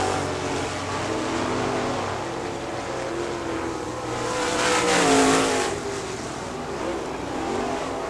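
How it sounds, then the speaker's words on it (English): Race cars circling a dirt oval track at a racing event, engines roaring loud and continuous as cars pass, swelling to a peak midway and then fading slightly. "Greg Greenman in car number 22 on the back straightaway."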